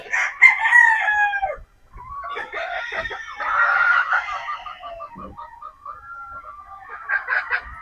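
Boston Roundhead chickens crow and cluck close by, with a long crow at the start followed by overlapping clucks and further crowing calls.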